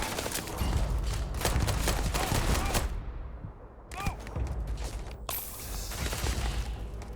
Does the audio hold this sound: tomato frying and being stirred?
no